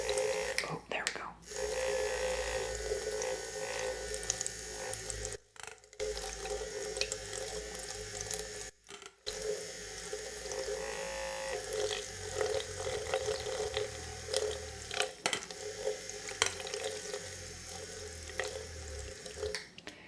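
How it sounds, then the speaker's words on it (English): A battery spin brush cleaner whirls a makeup brush in a bowl of soapy water, producing a steady close watery churning and sloshing throughout, with brief stops, and a voice speaking softly over it. "So I just dip the brush in, spin the wand."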